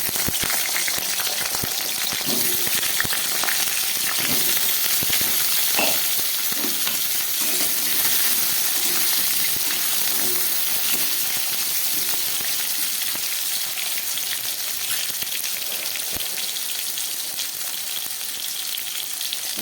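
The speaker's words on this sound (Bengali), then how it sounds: "প্রথমে কড়াইতে তেল দিলাম, আমি আলুগুলোকে ভেজে নিচ্ছি।" Potatoes sizzle in hot oil in a wok for a vegetarian cabbage dish, a loud continuous crackling fry with scattered stirring knocks and pops, close up and steady for the whole stretch.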